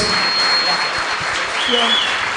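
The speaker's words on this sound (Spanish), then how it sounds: "Los aplausos." Dense, steady clapping from a crowd, sustained throughout with a few faint whistles or tones above it.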